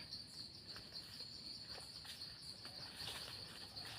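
Crickets and other insects trill steadily in a continuous high chorus, with faint scattered chirps over a low outdoor background.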